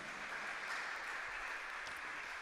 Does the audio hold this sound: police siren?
no